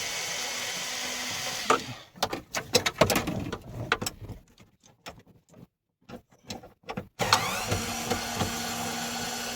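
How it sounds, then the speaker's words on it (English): A screw gun fitted with a 7 mm socket works loose interior fasteners in a 1991 GMT400 pickup, with bursts of close whirring, clicks and rattling parts and a brief quiet gap midway. "I brought my screw gun today. It's a 7 millimeter socket on it."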